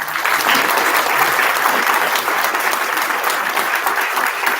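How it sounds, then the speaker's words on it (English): Sustained applause from an audience at a higher education conclave, a dense steady wash of many hands clapping, loud and even throughout with no voices on top. "So give him a big clap."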